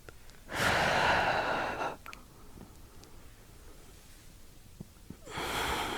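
Deep breaths during a yoga flow for stress relief: a long, close, breathy inhale or exhale, quiet room tone, then another breath beginning at the end.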